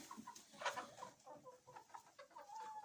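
Hens clucking softly in a farmyard, a run of short, close chirps and clucks coming one after another, fairly quiet and with no one talking.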